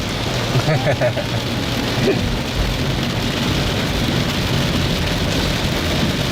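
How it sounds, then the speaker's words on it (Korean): Heavy rain pours down in a steady, loud, dense wash that covers the whole stretch, with low rumbling underneath and a brief faint voice early on. "와, 비 너무 많이 옵니다"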